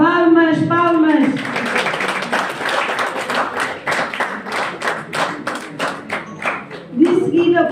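Brisk, rhythmic clapping from an audience greets a journalism graduate receiving a diploma, loud and close, with a voice speaking over the start and again as it fades.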